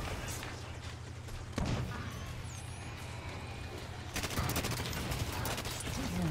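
Gunfire in Halo 5: Guardians Firefight mode, sharp broadband bursts near 1.6 s and a louder volley from about 4.2 s on, over a steady low game drone with some talk mixed in.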